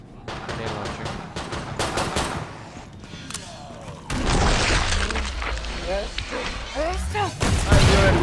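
Gunfire and grenade launcher explosions from a 3-round burst M4 in the video game Killing Floor 2, rapid cracking shots followed by louder booming blasts and chaotic combat noise, with voices talking throughout.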